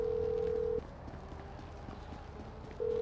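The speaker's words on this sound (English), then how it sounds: "who changed my ringtone?" A phone ringtone in the video game Grand Theft Auto V, a steady electronic tone that sounds, stops, then starts again over low background game noise of hoof-like clopping.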